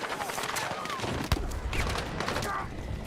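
Gunfire in the video game Battlefield 6, quick bursts and single shots crackling over a busy battlefield mix, with a player talking over it.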